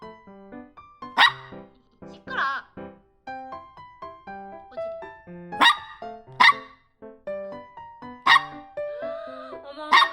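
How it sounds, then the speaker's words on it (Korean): A dog barks repeatedly in short bursts of several sharp yaps, loud and close, with brief pauses between volleys. "어머 강아지가 시끄럽네"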